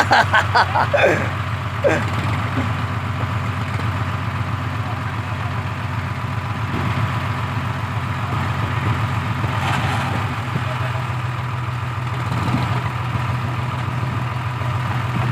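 A tractor engine idles with a steady low chugging throb, close and continuous, with a few clanks early on, the tractor having run off the road.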